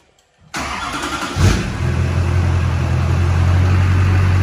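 A Duramax diesel pickup truck engine cranks over briefly, catches and settles into a loud, steady diesel idle close by, with no talking.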